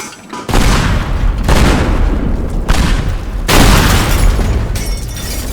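Propane tank explosions in the destruction game Teardown: a run of loud, booming blasts with heavy rumbling tails, arriving in three or four big bursts one after another, close and dominating with no talk.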